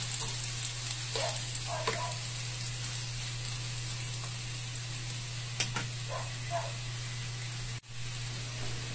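Shredded cabbage and egg being stirred in a hot pan, a steady continuous sizzle with occasional scraping stir strokes, close and alone without talk.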